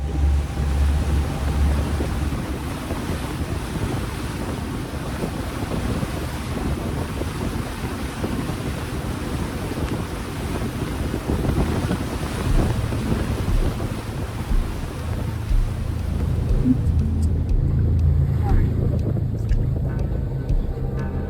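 A boat motors out to sea from a marina bound for Key West, its engine a steady low rumble beneath heavy, continuous wind buffeting and the wash of waves, loud and close throughout without talk.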